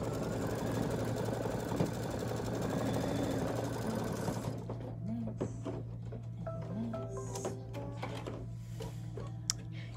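A sewing machine runs a placement stitch on white fabric, whirring densely and steadily for a few seconds before stopping, followed by quieter handling clicks and taps.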